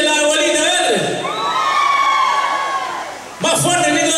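A concert crowd of grandmothers shouts and cheers at a show in San Manuel, a loud sustained roar of voices that dips midway, then swells again abruptly near the end.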